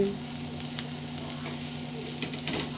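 Lima bean pods cooking in a pan give a steady hiss of frying with a low hum beneath, while a spoon stirs and scrapes a few times toward the end, nearby and without talking.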